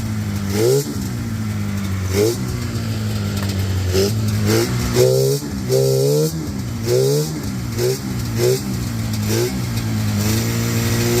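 A Polaris Indy 650 or 500 snowmobile two-stroke engine, found sitting in a yard, runs loudly on a makeshift fuel setup, idling with a steady buzz broken by repeated sharp throttle blips that rise and fall.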